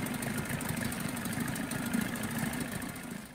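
A 1984 Johnson 25HP outboard engine idles steadily in forward gear with the throttle pulled fully back, a continuous, even mechanical drone heard alone.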